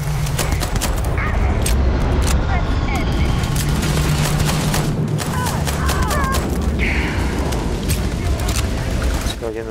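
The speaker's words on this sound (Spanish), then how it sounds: "Estoy oyendo tiros." Rapid bursts of gunfire and booming blasts in Starfield, loud and dense, crackling shots overlapping with a voice talking throughout.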